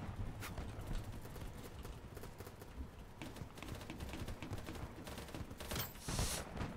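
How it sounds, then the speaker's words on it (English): Rapid bursts of distant gunfire crackle across a busy multiplayer battlefield in BattleBit Remastered, irregular cracks and rattles under constant background noise, louder toward the end. "Who the fuck is shooting?"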